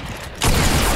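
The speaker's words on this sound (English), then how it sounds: "Someone just sniped at me right before we killed that guy." A single loud sniper shot in Fortnite bursts in abruptly and rings out close, filling the rest of the moment with a sustained roar.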